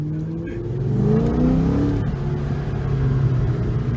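At a casual car meet, a car's engine rises and swells as the driver eases off the clutch and gives it gas, a mid-pitched revving drone building close by.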